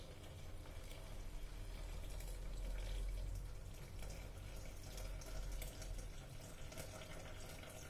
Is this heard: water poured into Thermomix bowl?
yes